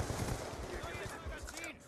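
Gunfire in the video game Black Ops 2 comes as a quick string of sharp, close rifle shots, one after another, fairly faint and fading near the end.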